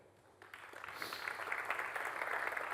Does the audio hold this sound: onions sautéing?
no